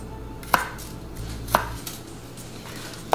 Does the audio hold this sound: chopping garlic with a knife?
yes